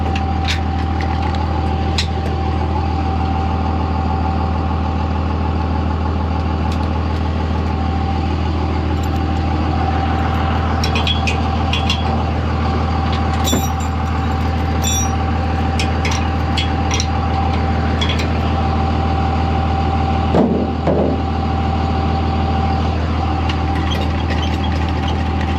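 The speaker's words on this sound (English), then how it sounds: "Shut this noisy truck off for a minute." A truck engine idles at a farm market day, a steady low rumble with a constant whine running the whole time, some clatter and brief knocks over it, no talk.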